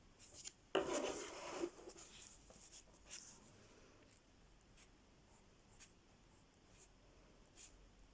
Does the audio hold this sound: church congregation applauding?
no